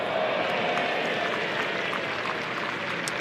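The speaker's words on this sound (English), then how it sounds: "tell from the rather derisive cheer that's gone around the ground what happened there" A derisive cheer from the crowd at a Somerset versus Northants one-day cricket match, a broad distant roar of voices and scattered clapping that holds steady without commentary over it.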